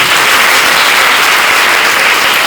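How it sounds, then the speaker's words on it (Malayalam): A temple congregation breaks into dense, sustained applause, with many hands clapping loudly and evenly throughout, and no voices rising above it. "ഈ പറഞ്ഞത് സത്യമാണെങ്കിൽ എല്ലാവരോടും ഒന്ന് കൈയടിക്കാം"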